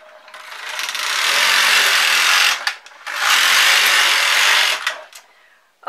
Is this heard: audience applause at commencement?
no